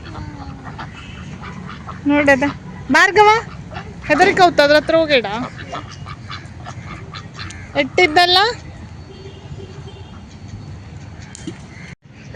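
Ducks at a temple pond stocked with fish give several loud, nasal quacks in short bursts close by, mixed with people talking nearby.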